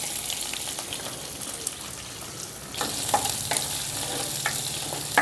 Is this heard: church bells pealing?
no